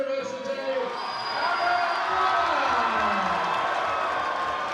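A varsity boxing crowd roars and cheers in an arena as a fighter enters, a broad sustained swell of voices and whistles rising after the first second and staying loud.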